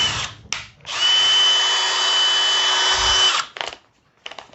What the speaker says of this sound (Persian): این چقدر نرم میچرخه